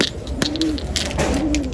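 Racing pigeons coo softly in a loft: two gentle, low coos are heard amid scattered rustling and light background noise, with no talking.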